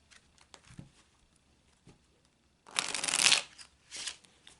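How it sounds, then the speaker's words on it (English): Tarot cards being shuffled by hand, with a few soft taps at first, then a dense, close riffling burst and a shorter second flurry. "So I'm shuffling that into the cards."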